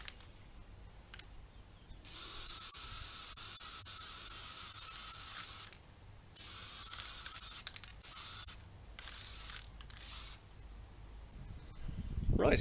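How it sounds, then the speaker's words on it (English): An aerosol can sprays black satin paint onto a waggler fishing float in several bursts: a long hiss, then shorter spurts separated by pauses, close and steady. "I'm going to spray it. This is black satin."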